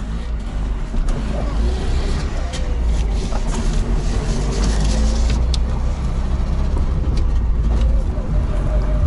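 A Trabant 601 driving after accident repair, its engine and road noise forming a steady, loud drone with low rumble heard from inside the car, continuous throughout with no talk.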